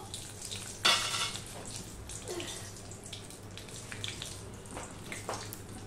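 Nigella seeds hit hot oil in a pan for a pomfret fish curry, giving a sudden sharp sizzle that eases into a soft, faint crackling hiss in a quiet kitchen.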